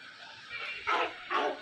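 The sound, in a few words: puppy barking in a video game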